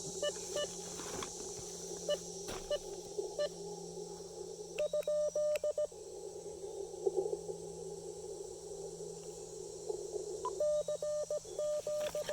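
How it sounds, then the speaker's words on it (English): Morse code from another station's keyer coming through a portable ham radio receiver at an outdoor QRP activation: rapid beeping tone bursts in several clusters over steady static hiss, fairly faint, with no talking. "Sounds like somebody else is having problems with their keyer."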